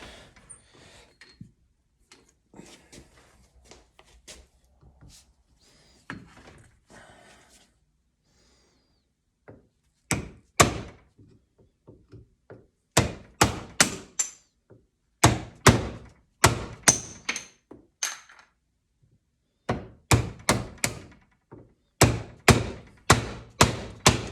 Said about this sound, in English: So this stuff you can kind of knock off pretty quickly. I'll do that right now just to show you.